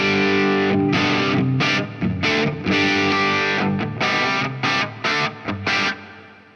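Loud distorted electric guitar chords played in bursts, each stop leaving a short grainy, fizzy reverb tail before the next strum.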